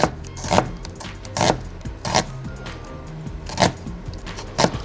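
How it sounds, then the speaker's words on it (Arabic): Red onion sliced into ordinary rings with a kitchen knife, about seven crisp, evenly spaced cuts against a board, each a sharp close knock with a light crunch, with no talk. "البصل بتاعنا هناخده سلايسز عاديه خالص"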